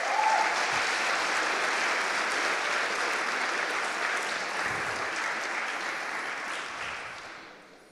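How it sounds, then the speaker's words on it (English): An audience at a live-streamed ceremony gives a sustained round of applause, a dense, steady wash of clapping that holds loud for several seconds before tapering off at the end, with no voices over it. "Round of applause for them."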